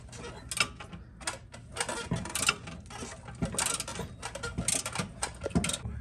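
A ratchet clicks in rapid bursts while working a bolt on the strut of a Lexus IS300, with close metallic ticking strokes repeating irregularly throughout.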